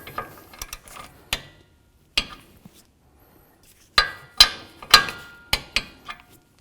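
A ratchet tightening a castle nut on a Jeep Liberty tie rod, sharp metallic clicks and clinks in scattered bursts, sparse at first, then a quick close cluster of clicks after a short pause.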